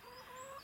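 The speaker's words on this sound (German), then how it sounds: "das ist mein Huhn" A hen clucks in short tonal calls, close and fairly quiet, with no talking; one of about six backyard hens, lame in one leg and carried in and out.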